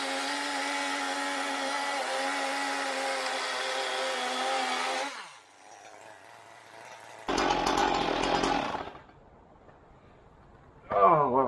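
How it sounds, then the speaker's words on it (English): Chainsaw cutting landscape timber for a backyard axe target, a long steady roaring whine that cuts out, then returns in a shorter loud burst and a brief final rev. "So I'm just going to cut that with a chainsaw"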